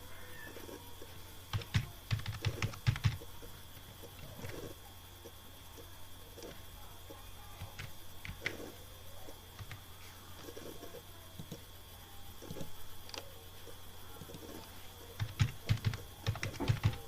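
Computer keyboard typing while an email ID and password are entered into an online exam application form, soft clustered keystroke bursts at the start, middle and end with quieter gaps between, close and alone.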